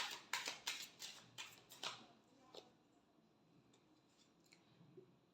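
Tarot cards are shuffled in a quiet room, a quick run of about seven crisp riffling snaps followed by fainter scattered card sounds.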